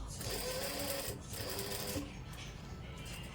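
A sewing machine stitches frilled lace onto the corner of a dupatta. It runs in two steady bursts with a short pause between them and stops near the two-second mark, leaving a quiet room.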